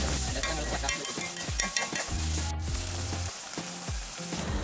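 Beef curry masala with ginger, garlic, chilli and tomato sizzles in a pan while a spoon stirs and scrapes in repeated strokes, close and moderately loud with no talk.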